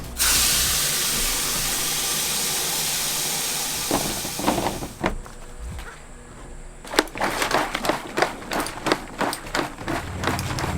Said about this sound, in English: you just want to be methodical with your spraying